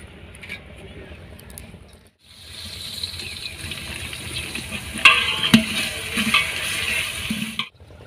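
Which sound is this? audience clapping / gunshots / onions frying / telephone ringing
onions frying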